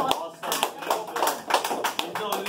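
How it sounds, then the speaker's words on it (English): Scattered applause from a small group in an indoor team meeting, a brief patter of quick claps building and fading over a couple of seconds, close and moderately loud. "Can we have a round of applause?"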